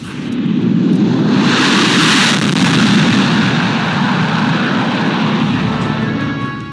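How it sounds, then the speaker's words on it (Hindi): A C-17 transport and two Sukhoi-30 fighters pass overhead in formation at a Republic Day parade, a loud broad jet roar that swells and holds steady before slowly easing off. "एक C-17 और 2 सुखोई 30 मिलकर बनाएंगे भीम फॉर्मेशन"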